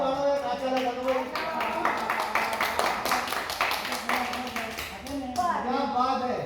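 Scattered hand clapping at a housie game, sharp uneven claps mixed with people talking throughout.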